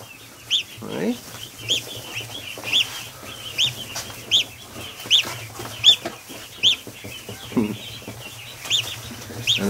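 Newly hatched Chinese goose goslings and ducklings huddle under a heat lamp, letting out a steady run of high, thin peeps in quick repeated bursts at close range, with faint low rumbling beneath.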